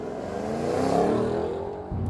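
A 662-horsepower Shelby accelerates close by. Its engine note climbs and swells, then eases off, with a short roar as the throttle opens again at the end.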